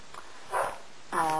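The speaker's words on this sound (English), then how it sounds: "I can hear my dog barking." A dog gives two short barks indoors, about half a second apart, moderately near, with a quiet room tone between them.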